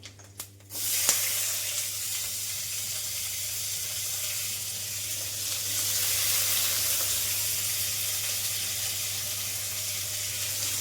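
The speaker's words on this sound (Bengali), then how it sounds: "কারি পাতা দিলে কি ফাটে বলো তো" Curry leaves crackle and sizzle in hot oil in a home kitchen, a steady hissing fry after a few sharp pops at the start, close and fairly loud, with no talking.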